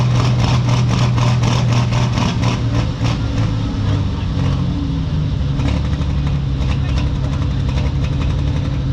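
A Pro Stock drag car with a Chevy engine idles and blips its throttle at the line, a loud rumbling low drone with sharp revving pulses, heard alongside crowd and track noise.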